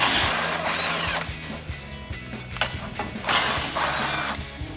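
Impact gun with a 17 mm socket zipping the tow hook bolts out of a 2014-2021 Toyota Tundra front bumper, with several bursts of rapid rattling hammering close by and pauses between them.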